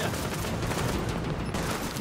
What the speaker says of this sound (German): Irgendeiner schießt auf mich.